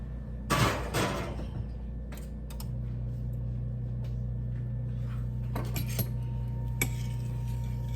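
A pan of spaghetti and meatballs goes into the oven: a couple of loud metallic clanks and rattles at the start, then a low steady oven hum with scattered light clicks and knocks.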